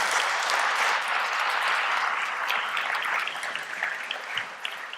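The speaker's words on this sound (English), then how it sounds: "But let's give a round of applause and thank Brenda." An audience applauds at a talk, a dense, steady wash of clapping from many hands that holds full strength before gradually thinning and fading toward the end.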